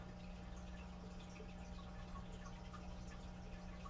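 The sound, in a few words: waterfall in the background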